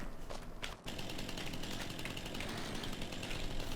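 A chainsaw cutting down a big tree in Farming Simulator 25, a steady loud buzzing roar that runs continuously with only a brief dip near the start, and no talking.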